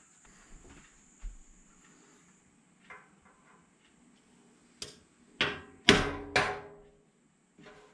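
A hammer taps a metal pull being marked for a 4mm drilled hole, giving a quick run of four sharp, close, ringing strikes after a few softer knocks over a quiet workshop background with a faint high whine.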